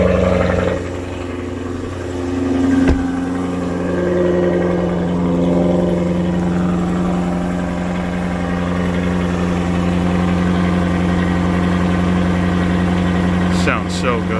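A 2021 Jaguar F-Type R idles with its exhaust rumbling steadily up close, a deep continuous drone holding even throughout, with a brief sharper blip early on and a few high clicks near the end.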